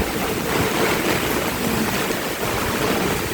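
Floodwater rushes steadily through Batangas during a typhoon, a dense, loud, continuous roar of churning water with no voices.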